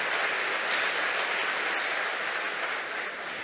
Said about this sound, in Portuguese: dá um forte aplauso pela tua vida